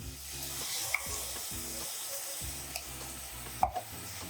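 Tomato pieces and salt frying in a pan for veg fried rice, a soft steady sizzle broken by repeated scraping stir strokes and a few sharp knocks, no speech.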